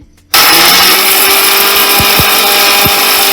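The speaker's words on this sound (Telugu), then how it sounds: "ఆ పొడివేపుడు చేసినటువంటి వాటిని ఇప్పుడు మిక్సీ జార్లో వేసి మిక్సీ పట్టుకోవాలి" A mixer grinder whirs loudly and steadily after a brief quiet start, grinding dry roasted spices for mint pickle with a few rattling knocks from the jar.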